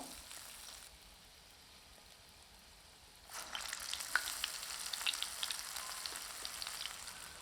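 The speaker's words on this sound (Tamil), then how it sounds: "மீடியம் ஃப்ளேமில் தான் வடை சுட்டு எடுக்கணும்" Lentil vada fritters frying in oil over a medium flame, a quiet steady sizzle that swells into a louder, crackling bubbling partway through as fresh batter hits the oil, with no talking.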